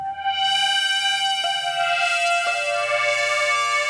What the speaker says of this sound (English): Metallic pipe sounds like this.